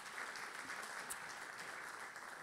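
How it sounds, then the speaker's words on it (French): Audience applauding at a mayors' awards evening in the Loire, a steady, fairly distant wash of clapping that holds through the short stretch. "On peut l'applaudir effectivement."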